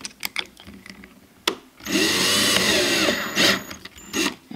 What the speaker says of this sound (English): It'd be a lot faster if I hook this up to a drill.